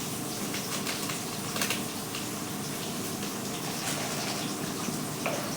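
Water pours steadily into a bowl of ground spices (cumin, coriander and Kashmiri chilli powder) being made into a paste, a continuous trickling gush at close range with no one speaking.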